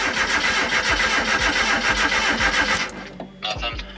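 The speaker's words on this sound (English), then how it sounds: "Okay, try to fire it up." A turbocharged Mazda Miata engine cranks on a start attempt, a rapid, loud rhythmic starter churn that cuts off near the end, followed by a few brief knocks.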